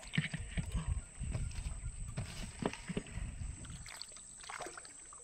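Oars or a paddle work a small fishing boat on open water while nets are hauled, giving irregular knocks and splashes over a steady background hiss, with occasional thuds against the wooden hull.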